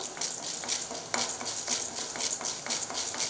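Urad dal and chana dal stir-fried in a pan, with repeated scraping strokes of a spoon over a gentle sizzle, close and fairly quiet.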